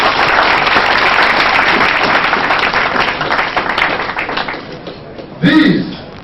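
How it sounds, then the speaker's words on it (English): Audience at a Rotary Club of Lagos induction night gives a loud, dense round of applause that thins out toward the end, followed by a brief burst of voices and a cough. "Can you please give him a round of applause?"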